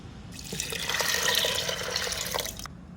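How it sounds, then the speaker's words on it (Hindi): Two cups of water poured steadily into lentils in a pressure cooker for dal, a continuous splashing gush close by that starts abruptly, runs for a couple of seconds and stops cleanly. "2 कप मैं इसमें पानी डाल रही हूँ,"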